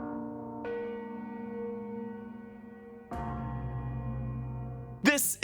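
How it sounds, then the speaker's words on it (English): Metallic clangs of the Ferrix anvil gong from Andor, each strike ringing out with a long sustained shimmer; three struck hits spaced a few seconds apart, loud and close, with a sharper crash at the end. "we open with the sound of the Ferrix anvil gong"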